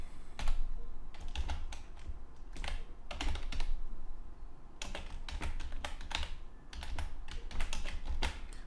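Steady typing on a computer keyboard, close up, with irregular bursts of key clicks and short pauses between them, and no voices.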